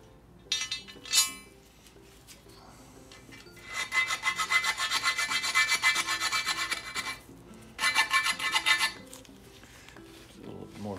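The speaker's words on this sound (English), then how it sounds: "It's just gonna be need just a bit more filing" Metal file rasping on a part of a John Deere 110 model 42 plow being refurbished, in long rhythmic strokes with two sustained bursts of filing between brief pauses and light clinks, close and fairly loud.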